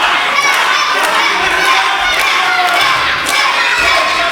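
A live pro wrestling championship crowd shouts and calls out loudly, a dense mass of high-pitched yelling and cheering with occasional thuds, close and continuous.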